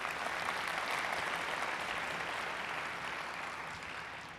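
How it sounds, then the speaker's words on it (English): A large conference audience at an aviation industry plenary claps in a thick, continuous wash of applause that holds steady and then slowly tapers off, with no voices over it. "Round of applause,"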